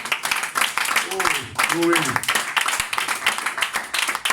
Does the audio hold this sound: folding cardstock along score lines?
no